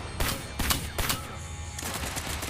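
Rapid gunfire from emptying a weapon in the VR game The Burst on Meta Quest 3, a few loud close shots in quick succession followed by a steadier ringing tail.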